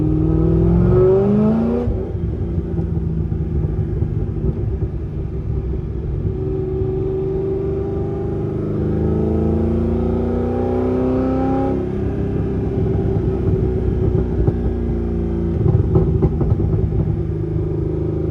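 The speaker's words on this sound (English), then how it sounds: "And you get all those glorious burbles on decel." Corvette C6 Z06 with heads and cam and an AWE Touring exhaust, a deep loud engine rumble that eases off with crackling burbles on deceleration, then swells again, close by and without talk.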